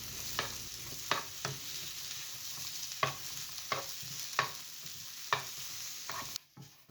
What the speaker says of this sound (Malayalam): ഇനി ഞങ്ങൾക്ക് ഉള്ളീനെ ഒന്ന് ഡ്രൈ റോസ്റ്റ് ചെയ്യാം.